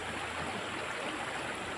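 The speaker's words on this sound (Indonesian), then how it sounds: "saya langsung ke sungai yang begitu bersih ini" A clean river flows past a village in interior Kalimantan, a faint, steady broadband rush of running water with no breaks or voices.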